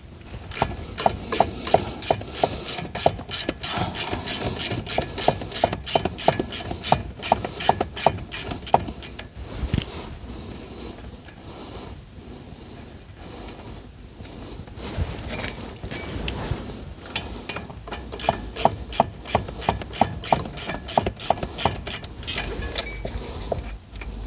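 Ratchet loosening an 8mm bolt on a Ford Ranger wheel hub, heard as bursts of rapid, evenly spaced clicks near the start and again toward the end, with a quieter stretch of rubbing and handling noise in between.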